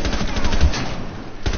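Rapid bursts of automatic gunfire in a shooter video game, dense and loud, with a short gap before a final volley near the end.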